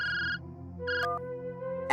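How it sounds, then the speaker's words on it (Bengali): A cartoon telephone ringtone plays in a few short electronic tonal bursts, bright and synthetic, with a brief pause between rings and a sharper sound at the end. "এই হুলোদা ফোন করছে"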